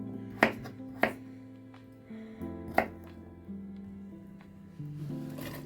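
Potatoes are cut with a knife on a board in a kitchen, a handful of sharp separate chops spaced irregularly over a low steady hum.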